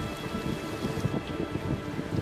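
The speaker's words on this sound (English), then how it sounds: "One afternoon in late April, a violent thunderstorm breaks over Quebec." A violent thunderstorm breaks over Quebec in late April, with heavy rain pouring steadily and low thunder rumbling continuously close by and loud.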